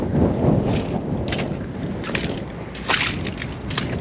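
Strong wind gusts across an outdoor hardwood lumber yard, a steady broad rushing roar with louder buffeting surges, loud and close as it hits the microphone, with no talking.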